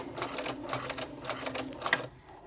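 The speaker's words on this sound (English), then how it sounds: "I'm at my machine and I'm sewing the side seam with that 1/2 inch seam allowance and just a straight stitch" A sewing machine runs a straight stitch along a side seam with a 1/2 inch seam allowance, rapid, evenly pulsing needle clatter at close range that stops abruptly near the end.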